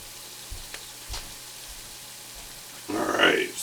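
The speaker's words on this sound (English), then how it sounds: "Alright, so we got that sauteing up." Scallops sauté in a pan with a low, steady sizzle and a few soft thumps, and a voice grunts loudly near the end.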